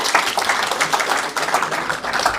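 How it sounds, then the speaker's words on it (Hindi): A room of students claps for themselves, a dense burst of applause that holds steady throughout with faint voices mixed in. "तालियां बजाओ अपने लिए।"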